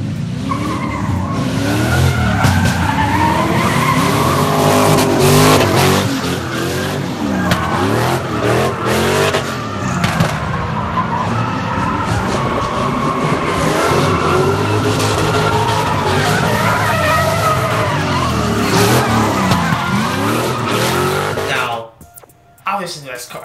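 Purple LS-swapped RX-7 drifting with sustained tire squeal and skidding over a revving V8, the engine rising and falling for about twenty seconds before cutting off abruptly near the end.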